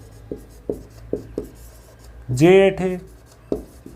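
Chalk or marker strokes on a board, short scratchy bursts in an uneven rhythm, close by, with a voice briefly speaking partway through.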